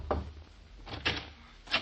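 Door in an old time radio drama opening, a few soft wooden clunks and a brief latch rattle spread over a couple of seconds, quiet and close, with no speech.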